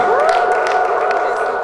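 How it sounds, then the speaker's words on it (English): An audience at a comedy show cheers loudly and steadily, with whoops riding over scattered clapping, sounding close and continuous for under two seconds. "Round of applause."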